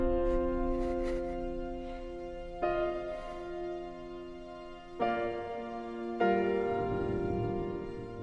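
Halo Infinite soundtrack piano plays slow, sustained chords echoing an earlier motif. About four chord changes ring and blend over a low, soft wash, calm and unhurried.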